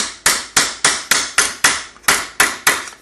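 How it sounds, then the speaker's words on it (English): Sharp metallic hammer blows flatten sheet metal on a planishing anvil in a steady rhythm, about three per second, each ringing briefly before the next, close and loud with no talking. "start on the inside and hammer them flat as you go down"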